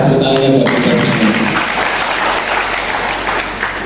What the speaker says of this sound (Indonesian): Pradi tepuk tangannya buat kita semua.